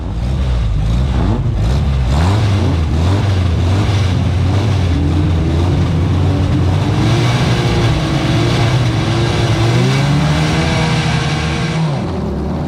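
Formula Ford race cars launch at the start of a race in a loud roaring mass of engines, with rising pitches as the cars accelerate through the gears and several engine notes overlapping close by.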